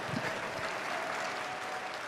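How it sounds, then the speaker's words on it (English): A large audience at an evening talk in a concert hall claps steadily, a dense, even wash of applause filling the whole stretch at a constant level. "You guys can keep clapping if you want."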